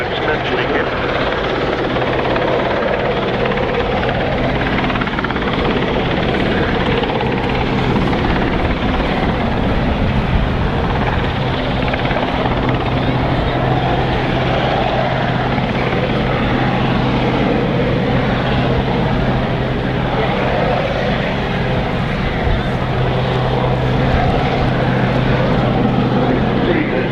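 An RAF Westland Sea King helicopter flies a display at Cosford Airshow 2015, its loud steady rotor thrum and turbine roar continuous and close, with voices talking underneath.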